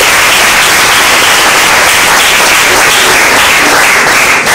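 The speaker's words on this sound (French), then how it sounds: "Applaudissez d'abord pour vos..." Audience applause for dictation contest winners, a loud, close, continuous wash of many hands clapping at a steady level with no pauses and no voices over it.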